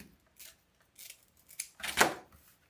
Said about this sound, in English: then you're going to cut it right off the roll